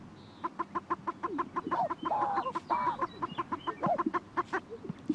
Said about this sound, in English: Sage grouse gather on traditional booming grounds, called leks, where the cocks display for the attention of the hens.